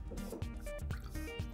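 Water is poured into a bowl of spice mix for lamb shawarma, giving a close, soft series of dripping, gurgling splashes and liquid trickles over a short burst.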